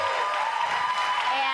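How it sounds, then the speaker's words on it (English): An audience claps and cheers in a broad, steady wash of applause, fairly close and continuous throughout with no break. "they just like clap like, woo"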